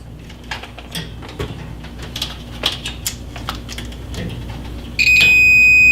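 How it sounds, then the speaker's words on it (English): Scattered clicks and taps give way to a steady, high multimeter continuity beep while testing a stove element, starting abruptly near the end and holding loud and continuous. "We hear a beep, therefore it's good,"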